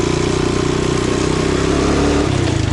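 The steady, loud engine of a motorized all-terrain vehicle runs close by on a trip to the fields, a continuous throbbing mid-pitched drone with a slight dip in revs near the end, with no talking.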